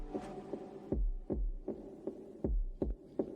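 Lo-fi gritty kick and snare drums pulse like a heartbeat, a slow repeating pattern of thick low thumps with a faint hum underneath, alone with no voices.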